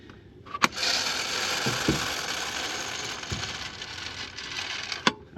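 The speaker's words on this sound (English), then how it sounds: "Moisture tester's got to do a calibration little test before you use it every time." A grain moisture tester runs its calibration test, giving off a steady mechanical ratcheting whir for several seconds, bracketed by sharp clicks at the start and end.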